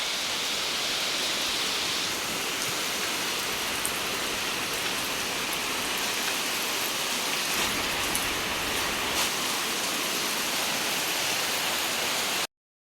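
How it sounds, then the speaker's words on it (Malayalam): Heavy rain pours down steadily, a dense, even hiss of water on surfaces that holds at a constant loudness for the whole stretch, with no voices over it. "ആദ്യം നല്ല മഴ പെയ്യാൻ തുടങ്ങി."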